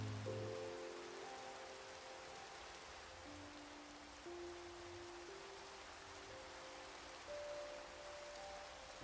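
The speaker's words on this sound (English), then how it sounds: "It is now raining in game." Steady rain falling in the video game Minecraft, a soft even wash of drops that continues unbroken from start to finish with no talk over it.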